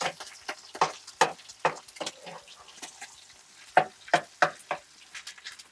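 Eggs being stirred into browned ground beef in a pan, a spatula scraping and tapping the pan in irregular bursts over a soft, faint sizzle, with no talking.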